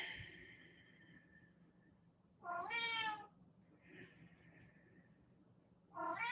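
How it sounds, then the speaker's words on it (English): A pet cat meows to be let out, a few drawn-out, wavering cries close by with quiet pauses between them in a calm indoor space. "My kitty's meowing at me to let her out."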